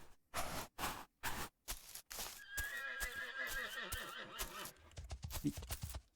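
A horse in the video game Kingdoms gives a long whinny, framed by rhythmic clip-clop hoofbeats before and after, loud and close.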